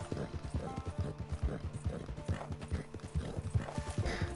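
In Red Dead Redemption 2 Online, a horse gallops with quick, rhythmic hoofbeats that are loud and close, going on without a break.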